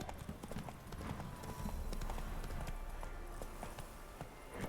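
Horse hooves clip-clop at an even trotting rhythm throughout, a steady close pattern of hoof beats from a mount being ridden in The Witcher 3 game world.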